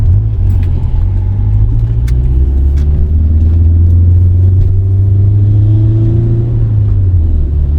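Tuned Subaru Forester STI with a big turbo driving along, a steady loud low engine drone with slowly shifting pitch, close and continuous throughout.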